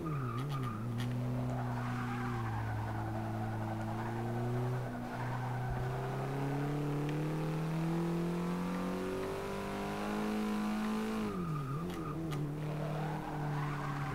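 An Alfa Romeo 4C Cup race car laps Mazda Raceway Laguna Seca in Forza Motorsport 6, its engine droning and rising steadily through gears with tire squeal, a sharp drop and re-rev near the end, loud and continuous.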